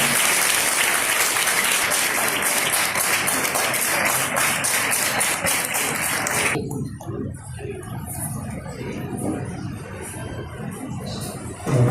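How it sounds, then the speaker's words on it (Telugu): An audience claps to welcome a nursing superintendent at a ceremony. Dense, lively applause fills the first six or so seconds, then stops sharply and leaves scattered faint room sounds. "నర్సింగ్ సూపరింటెండెంట్ సావిత్రిబాయి గారిని మనమంతా చప్పట్లతో స్వాగతిద్దాం"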